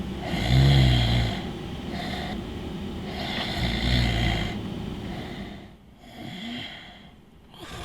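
A 32-year-old office worker snores loudly while asleep in his car in a parking lot at midday, with heavy rhythmic snores near and prominent, repeating in long rumbling cycles.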